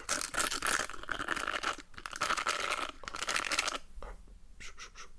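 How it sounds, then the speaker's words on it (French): A hairbrush drawn through hair during a French-language hairdresser roleplay, giving close, crisp bristly strokes in steady repeated sweeps, with brief pauses between passes and no talking. "t'aimes bien ce bruit de la brosse?"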